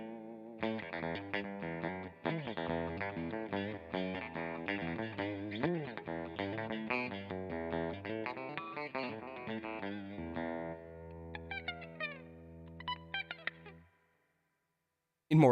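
A Stratocaster electric guitar played through its newly installed bridge pickup strums and picks chords with a distorted, chorused tone, busy and steady for many seconds before a few sparse ringing notes and a sustained fade.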